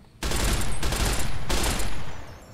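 Heavy automatic gunfire from the Boomer cannon in Fallout: New Vegas fires in a dense, loud burst lasting about two seconds, with rapid overlapping blasts.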